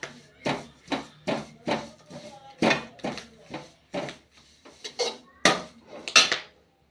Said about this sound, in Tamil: அடுத்தது கருவேப்பிலை தலையை என்ன பண்ணிக்குவோம், வறுத்துக்குவோம்.